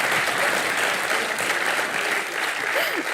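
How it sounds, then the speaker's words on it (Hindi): Studio audience applause on a television talk show, a dense, steady clapping that stays loud and even for the full few seconds, with a faint voice briefly audible underneath. "तालियां मारो उनके लिए"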